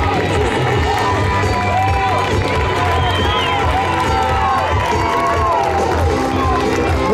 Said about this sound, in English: All right, keep that applause up.